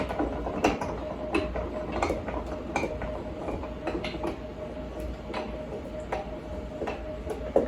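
Hand-cranked sausage stuffer pushing ground venison into casing for summer sausage, a steady grinding mechanical whir with repeated clicking ratchet-like ticks, close and continuous throughout.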